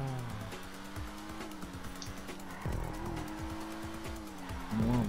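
A car drifting around a course in the GTA video game, engine revving up and down with squealing tires and skids, fairly close and steady over several seconds without talk.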